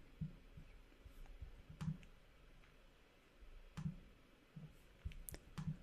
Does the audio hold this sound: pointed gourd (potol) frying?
no